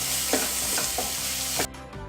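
Onions with salt sautéing in a little oil in a pan, a steady close sizzle with several stirring scrapes, then the frying noise drops off sharply near the end.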